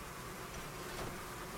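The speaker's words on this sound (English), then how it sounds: "Ah, is that why there are so many of these chorister bees?" Chorister bees in the game Sunless Skies make a faint, continuous insect buzz that holds steady throughout.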